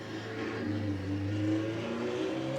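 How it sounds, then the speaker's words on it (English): A motorcycle passes by outdoors, its engine a steady mid-pitched drone that swells and slightly rises in pitch before easing off, heard alone without any voices. "Sorry for that motorcycle."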